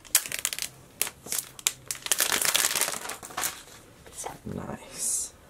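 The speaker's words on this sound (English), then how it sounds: "You just have this little pull tab right here, and you can just peel it off." The pull tab on an iPhone 8 Plus gold 64 GB box is peeled off. It gives a close, crinkly tearing and rustling that rises and falls over several seconds, with a voice present.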